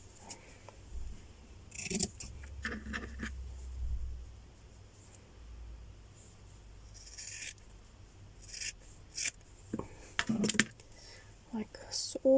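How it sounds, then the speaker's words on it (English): Paper pages being cut with scissors for a stitchery journal: several short separate snips and rustles spaced through the stretch, close and fairly quiet, with soft handling noise between cuts. "So cut this one down as well."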